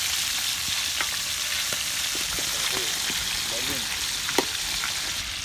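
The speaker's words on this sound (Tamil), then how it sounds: "உள்ள இருக்க மசாலா நல்லா பொரியுது பார்த்தீங்களா எப்படி பெலூன் மாதிரி" Squid masala rolls deep-fry in hot oil with a steady, dense sizzle and scattered crackles and pops, close and continuous for about five seconds.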